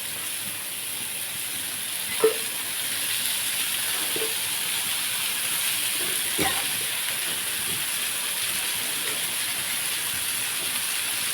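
Sliced onions frying in hot oil for a brinjal and ginger curry give a steady, even hiss that runs throughout, with a few faint knocks from the pan or spoon.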